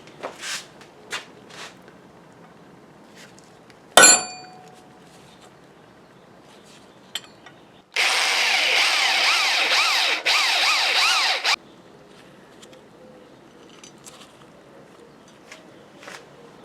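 A power drill bores a pin hole in a Model T rear axle thrust washer, a steady whining run of about three and a half seconds with a brief dip in the middle, set among quiet workshop clatter and a sharp knock beforehand.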